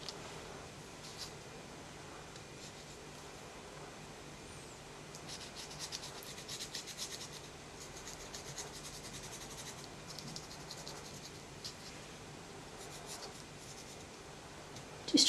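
A pen scratches highlights onto the trousers of an index card illustration, a close, quiet run of short strokes and rubs that continues steadily throughout.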